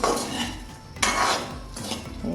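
Semolina (suji) and sugar stirred in a pan, a metal spoon scraping and clinking steadily against the pan with a couple of sharper knocks.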